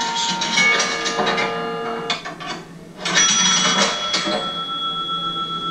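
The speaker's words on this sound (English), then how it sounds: "The operator knew you were making the correct deposit when she heard the right combination of bells and gongs." Bright metallic bells and gongs of an old payphone coin deposit ring out in quick clusters, with a short pause, then more ringing that lingers with a sustained tone.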